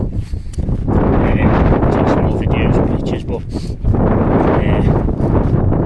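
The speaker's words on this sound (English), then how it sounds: "it's just been too windy for me" Strong wind buffets the microphone on an exposed Yorkshire hillside in harsh weather, gusting loudly and continuously while someone talks over it.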